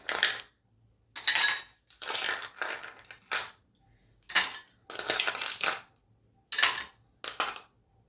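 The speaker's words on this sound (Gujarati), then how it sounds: "અહીંના કાચના ગ્લાસ લીધા છે, તો હવે એમાં બરફ ઉમેરીએ." Ice cubes clatter into glass tumblers for raw mango sharbat, about nine separate bursts of crisp rattling and clinking with short silences between them, close and clear.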